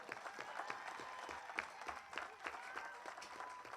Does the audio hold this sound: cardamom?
no